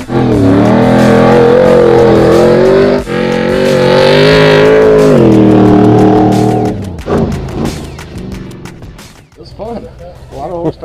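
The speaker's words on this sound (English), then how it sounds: "testing this new Mickey Thompson trophy truck for 2012-13" A Mickey Thompson trophy truck for 2012-13, a small high-horsepower stadium racing truck, revs loudly and steadily nearby, its engine pitch rising and falling before cutting off into quieter rumble with brief voices.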